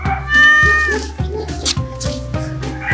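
A frightened, abandoned cat hidden in a bush meows repeatedly in a series of drawn-out, plaintive cries, close and clear, with little else around.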